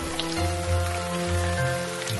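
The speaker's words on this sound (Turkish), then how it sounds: "Yağmur yağıyor" Steady cartoon rain patters evenly throughout, with soft tonal music underneath and no voices.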